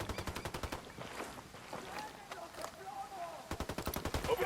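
Rapid automatic gunfire from Ghost Recon Wildlands bursts out loud and close, pauses into a murky stretch of ambient battle noise and radio-like chatter, then resumes with another fast, rattling volley.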